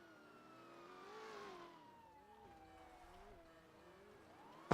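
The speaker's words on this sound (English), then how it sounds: "I hear a cop siren. He's coming this way." Police car siren in the GTA video game, a faint wailing tone that rises and falls steadily over a low engine hum, ending in a sharp loud burst.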